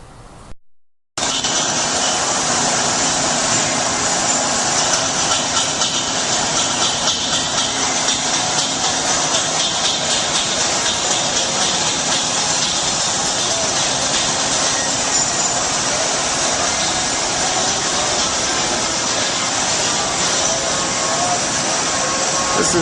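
An Acme cold saw with auto loading and an ejection table cuts 1.5 by 3.5 inch steel tubing into 5-inch pieces, a loud, continuous machine roar with a grinding, whining edge that runs on almost unbroken.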